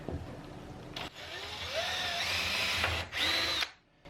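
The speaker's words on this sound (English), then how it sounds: "the line that's drawn under there at 2 centimeters and drill down" Power drill boring down into a camera gantry part at a marked line, with a steady whining run of a couple of seconds between brief starts and stops, close and loud with no talk.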